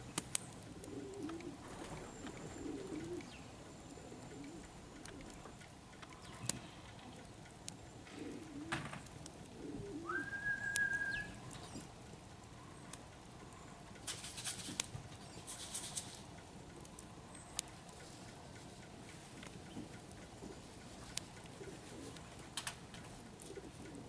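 Racing pigeons coo softly at their loft after arriving home wet from a rainy young-bird race, with low repeated coos scattered over quiet background patter and a brief higher chirp.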